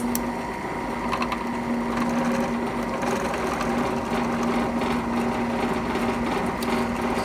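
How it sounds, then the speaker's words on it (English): A steady, high whirring drone of a power drill drilling a pipe runs continuously and evenly for several seconds, close and fairly loud, with no talking. "Drill this. I'll drill this right now."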